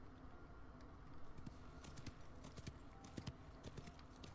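Horse hooves clip-clopping in the video game Wild West Online, a steady rhythmic series of hoof knocks at moderate distance over faint game ambience.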